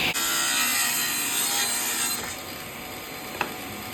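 A SawStop table saw rips 1-inch wood cleats, a loud steady cutting whine for about two seconds that then drops away as the saw runs down, with a brief knock near the end.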